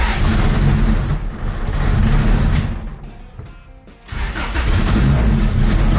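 A car engine, just fitted with a new engine mount, runs loud and close and revs, dips briefly to a lull, then surges back up to a strong, steady roar.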